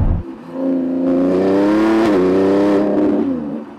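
A Lamborghini Revuelto accelerates hard, its engine note rising in pitch as it revs, then briefly dipping and climbing again before easing off, loud and close with no voices.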